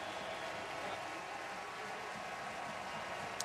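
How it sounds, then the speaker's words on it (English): Wake Forest fans in a football stadium aim a derisive tomahawk chop cheer at Florida State supporters after a 2021 ACC win, heard as a dense, steady crowd roar that fills the whole stretch. "a little bit of a derisive tomahawk cheer by Wake Forest fans pointed towards the Florida State faithful"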